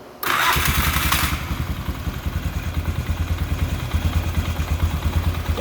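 A Polaris Sportsman ATV with a freshly installed carburetor cranks and fires, a brief high whine at start, then settles into a loud, close, steady idle with a rhythmic low thumping.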